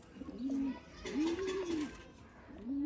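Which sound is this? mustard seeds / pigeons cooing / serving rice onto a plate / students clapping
pigeons cooing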